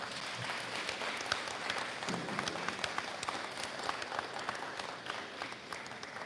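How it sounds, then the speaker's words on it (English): An audience at a senior awards ceremony applauds the students' parents with a steady wash of many hands clapping. The applause is even and sustained, heard from within the room, with a little crowd murmur underneath. "So give them a round of applause,"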